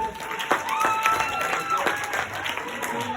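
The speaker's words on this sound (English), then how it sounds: "Y'all give my prop guys a hand clap." A church congregation at a Youth Sunday service applauds, a diffuse crowd clapping from across the room with voices talking over it.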